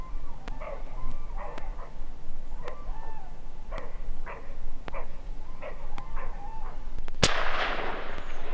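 Gunshots fired south during a dawn roebuck hunt ring out far off as a sharp report, with fainter barking calls of a roe deer repeating in a quiet outdoor backdrop.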